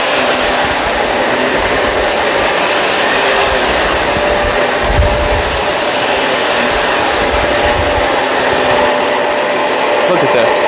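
Kenmore Crossover Ultra vacuum cleaner running at full power, a loud, steady high-pitched whine and rush of airflow close by with no letup, with a voice briefly under it.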